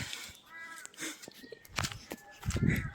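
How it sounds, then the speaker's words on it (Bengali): A cat gives a few faint, short meows against outdoor background noise and scattered clicks. "বিড়ালটা মনে হচ্ছে শিকার করছে"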